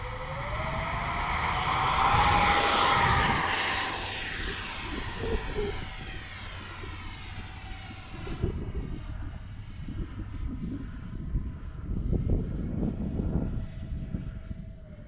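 An X-Fly Su-27 twin electric RC model jet flies past with a rising, whining fan roar that peaks and fades, followed by steady outdoor engine hum and some wind buffeting, no talk.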